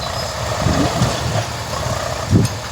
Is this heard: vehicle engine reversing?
yes